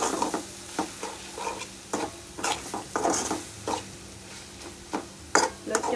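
Loitta (Bombay duck) fish cooks down with coriander leaves and green chillies as a spoon stirs and scrapes the pan in irregular knocks over a soft sizzle.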